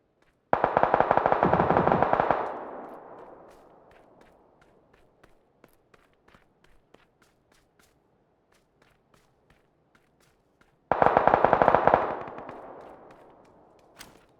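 Automatic gunfire in the video game PUBG, two loud close bursts of rapid fire several seconds apart, each followed by a fading echo, with faint footsteps and small clicks in the quiet gap between them.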